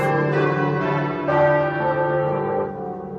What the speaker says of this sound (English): the bells of this church, St Magnus the Martyr, just a street away from Pudding Lane, were ringing out in alarm